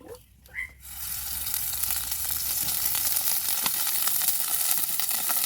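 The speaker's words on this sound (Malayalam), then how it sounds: "ഇത്തിരി കടുകിട്ട് ഇപ്പോൾ കടുക് കൂട്ടുന്നുണ്ട്" Mustard seeds drop into hot oil in a pan at the start of a prawn roast and set off a loud, continuous hissing sizzle that holds steady, preceded by a few brief clanks from the pan.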